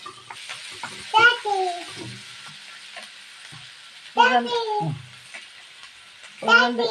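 Crushed ginger and garlic hit hot oil in a pan while cooking a jackfruit and meat curry, giving a steady sizzle and frying hiss under a voice talking through the whole stretch.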